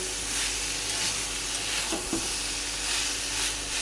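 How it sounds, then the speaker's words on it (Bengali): Peas are stirred into a vegetarian cauliflower curry with homemade lentil dumplings in a pan, giving a steady, quiet sizzle and hiss with a soft scrape partway through. "তো দেখো বন্ধুরা, একটু নাড়িয়ে চাড়িয়ে নিলাম মটরশুঁটিগুলোকে সবজির সাথে।"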